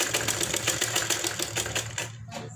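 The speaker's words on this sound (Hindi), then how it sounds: "यहाँ पे हम फिर दो तीन सिलाई चला देंगे" Sewing machine stitching lace trim onto a blouse back neck, a rapid close mechanical clatter of repeated needle strokes running for a couple of seconds before slowing and trailing off.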